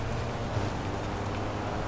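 Steady rain pours in the racing game Forza Horizon, a dense even hiss that stays constant and moderately loud throughout, with no voices over it.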